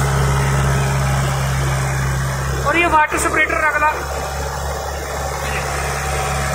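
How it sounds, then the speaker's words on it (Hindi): A Kubota MU4501 tractor's four-cylinder 45 hp engine idles with a steady low, even hum throughout, close by, while someone briefly speaks over it midway. "इसका इंजन देखिए भैया चार सिलेंडर इंजन है पैंतालीस एच का"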